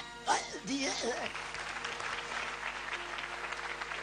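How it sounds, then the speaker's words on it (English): Applause from an audience at an awards ceremony, a faint, continuous patter of many hands that starts with a brief louder burst and carries on steadily, with some voices underneath. "A big clap for DNA."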